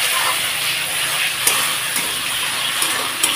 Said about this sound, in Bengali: তো মশলাটা সুন্দর ভাজা ভাজা হতেই আমি একটু জল দিয়ে দিচ্ছি।